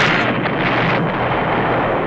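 A bomb explosion from the cult horror film From Beyond, a loud, dense roaring blast that fills the whole moment with rumbling, wind-like noise and no break.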